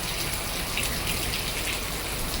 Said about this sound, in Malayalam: മഴ പെയ്തു.